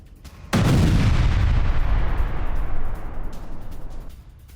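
A sudden loud explosion from a suicide attack booms after a quiet moment, followed by a long, rumbling roar that slowly fades.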